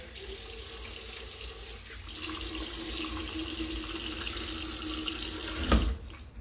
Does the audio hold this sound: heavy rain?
no